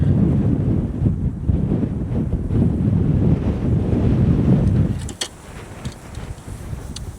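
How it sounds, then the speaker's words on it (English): Strong wind sweeps across a pond during ultralight fishing and buffets the microphone with a loud, rough roar for about five seconds. It then drops away to a quieter background with a few faint knocks. "It's windy, my rods are falling over."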